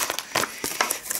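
A plastic packet crinkles in a few short rustling bursts, close and fairly soft.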